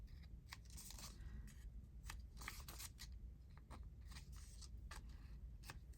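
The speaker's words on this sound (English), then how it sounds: "And I'm going to snip my corners." Scissors snip the corners of paper for a journal craft project: a series of crisp, quiet, irregular cuts, close by, over a faint low background hum.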